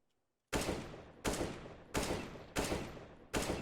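A rifle fires five single shots in Counter-Strike: Global Offensive aim practice, each loud and sharp with a short decaying tail. They come at even intervals of about 0.7 seconds after a half-second of silence.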